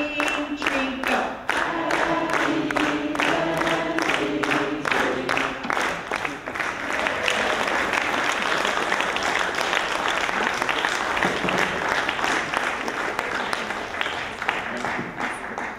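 An audience at a healthcare compassion conference claps in unison, starting with distinct rhythmic beats over a sung tune and voices, then dissolving into a sustained, fairly loud wash of applause.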